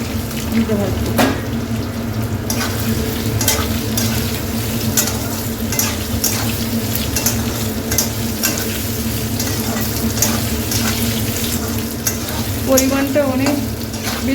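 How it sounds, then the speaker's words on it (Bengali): Potatoes fry in a pan with beet, carrot and panch phoron spices, a loud continuous sizzle broken by repeated scraping and clinking of stirring, with faint talk underneath. "আলুটা দিয়ে দিচ্ছি, দিতে ভাজছি।"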